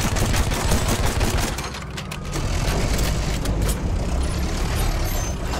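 Rapid machine gun fire and battlefield noise fill a Battlefield 1 match, loud and continuous with dense bursts of shots over a heavy rumbling background.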